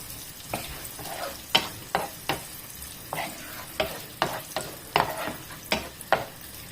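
Chorizo frying in a pan sizzles steadily, broken by a series of sharp scraping and tapping strokes as it is stirred with a utensil at a quick, irregular rhythm.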